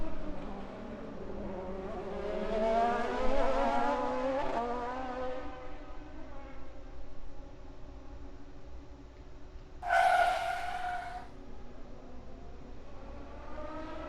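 Racing cars speed around a corner, a rising engine whine with harmonic sweeps building and fading, then a sharp squealing skid near the ten-second mark before the engines drone on.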